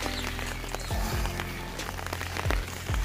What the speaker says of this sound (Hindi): वर्षा तो कंटिन्यू चली रही